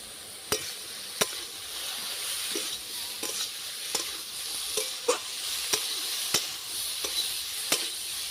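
Chopped onion sizzles and fries in a pan with turmeric, chilli and cumin powder, a steady close hiss broken by sharp, regular stirring clacks of a spoon against the pan.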